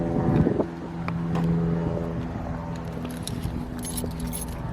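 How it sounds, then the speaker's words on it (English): Car keys jingle near the ignition as a car is started, a bright metallic rattle over a low engine hum, with a louder jangle at first and a lighter clinking later, close to the microphone. "We're gonna start by turning on our car."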